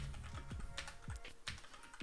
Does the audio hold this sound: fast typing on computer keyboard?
yes